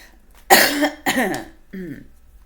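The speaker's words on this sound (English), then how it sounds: "sorry for coughing, guys" A person coughs two or three times in quick bursts, close and loud, with a short throaty follow-up.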